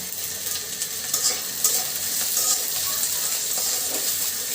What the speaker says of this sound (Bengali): পেঁয়াজ মরিচটা খুব সুন্দর করে ভাজি করে নিব এর ভিতরে দিয়ে দিচ্ছে একটা তেজপাতা